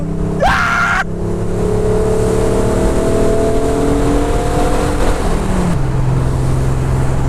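A TVR S3 with its 2.9 litre Ford Cologne V6 revs up sharply, then settles into a loud, steady engine drone that drops to a lower idle note near the end, with no talk.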